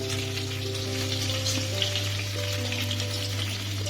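Onions frying in a pan with green chillies for potato palya, a close, steady sizzle with a constant low hum underneath and no talking.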